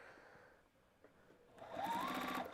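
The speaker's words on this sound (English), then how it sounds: "So I'm going to stitch." A sewing machine stitches quilt-as-you-go fabric postcards, quietly at first, then whirring up into a steady, rapid hum for the final second.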